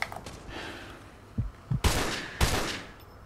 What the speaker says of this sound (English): I'm gonna use the M14.